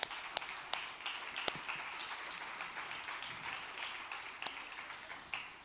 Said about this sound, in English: Let's give a round of applause to all of our semifinalists.